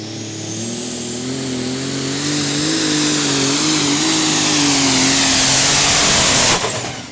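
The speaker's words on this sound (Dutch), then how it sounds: "De motor valt uit." A car engine revs and climbs in pitch for several seconds, then abruptly cuts out and falls silent.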